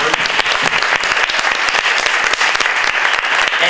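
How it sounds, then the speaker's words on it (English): A room full of people at a fair housing event gives a loud round of applause, steady dense clapping sustained throughout. "Let's give them a round of applause."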